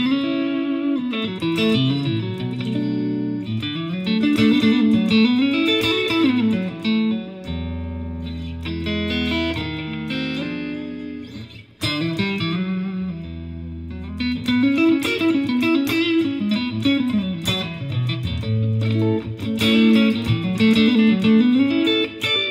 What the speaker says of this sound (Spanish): ahí he puesto una reverb bastante larga